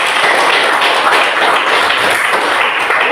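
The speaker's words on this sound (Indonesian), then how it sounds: "Oke, berikan aplaus." Classroom applause from a group of students during a biology lesson, a steady dense patter of clapping that fills the whole stretch at close range, with no one talking over it.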